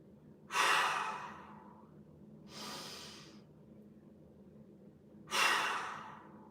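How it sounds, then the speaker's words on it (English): Deep breathing during a mobility exercise, drawn in through the nose and let out through the mouth, with three distinct close, airy breaths spaced a couple of seconds apart in a quiet room. "Breathe in through your nose and out through your mouth."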